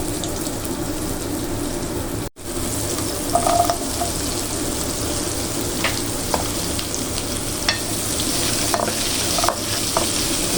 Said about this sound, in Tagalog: Nagpainit na ako ng mantika guys. Ilalagay na rin natin yung white onion natin.